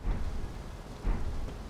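Rain and rumbling thunder in the action RPG Elden Ring, a steady low wash of rainfall with two soft deep thuds of a lightning spell or thunder, fairly quiet overall.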